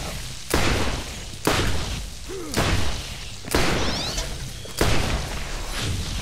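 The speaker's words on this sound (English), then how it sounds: "They explode." Explosions in Borderlands sound as five sharp, heavy booms at roughly one-second intervals, each with a thumping low tail, over a busy game background.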